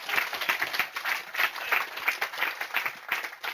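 An audience at a software testing conference talk claps in a sparse, uneven burst, individual hand claps distinct and fairly quiet, heard at a distance through a room recording.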